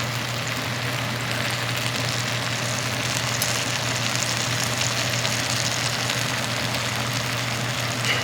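Peaches with sugar cooking in a pot, giving a steady, continuous sizzling bubble with a low hum underneath, close and even throughout with no voices.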